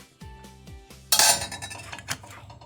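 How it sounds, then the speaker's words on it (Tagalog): Penne pasta with sauce, green peas and fish fillet, dressed with olive oil, is stirred in a pan. Soft early clinks give way to a loud, bright scrape and clatter of a utensil against the metal pan, then lighter knocks. "i-mix lang natin ang ating pasta at yung ating sauce"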